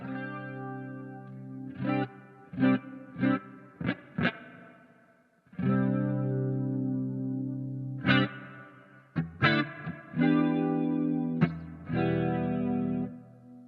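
Electric guitar played through a Marshall MG15CFX amp with flanger and spring reverb: strummed chords and short riffs, swirling modulation and a wet, splashy reverb tail, no voices.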